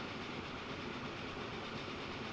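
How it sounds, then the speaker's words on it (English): In Transport Fever 2, trains keep up a continuous low rumble and rolling clatter. The sound is fairly faint and steady, with no voices over it. "Oh, look, we got two trains oncoming here."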